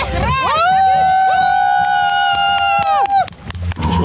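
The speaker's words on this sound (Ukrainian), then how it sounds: "учасники запливу вже фінішують під радісні вигуки своїх болівальників" Fans cheering and shouting as swimmers finish a race, a loud, sustained crowd roar with sharp, sustained whistles over it and scattered claps and splashes near the end.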